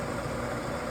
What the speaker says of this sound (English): Machine is running.